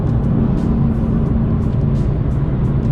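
A BMW F87 M2 sports car engine roars up close, a deep, steady rumble with no pauses.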